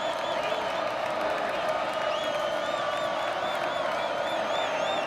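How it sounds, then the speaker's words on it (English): Remaining crowd in a stadium at a UCF Knights versus Jacksonville State college football game makes a steady, moderately distant roar with scattered whoops, holding continuously throughout without a clear peak. "The crowd that's remained trying to make some noise"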